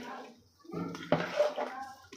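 Boiled water splashes and pours into a pot of sambar rice in a brief gurgling rush, close by.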